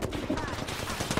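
Video game gunfire in a rapid burst of sharp, close shots across a brief stretch, with faint voice chatter underneath.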